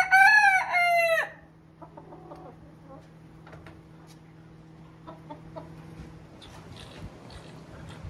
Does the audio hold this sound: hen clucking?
yes